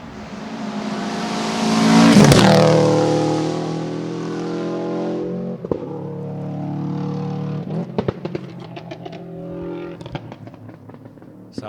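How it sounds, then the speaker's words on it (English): A loud older-spec Subaru rally car engine at the 2023 Gippsland Rally revs up with a raspy, throbbing boxer note, then settles into pops, crackles and blips as the throttle is blipped repeatedly. "Let's have a listen to this old Subaru."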